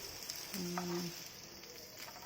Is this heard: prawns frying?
yes